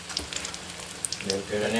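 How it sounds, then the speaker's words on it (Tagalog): Oil sizzles steadily as vegetable spring rolls (lumpiang gulay with bean sprouts) fry, a dense crackling hiss with scattered pops that swells louder toward the end. "Yan, ito yung prito."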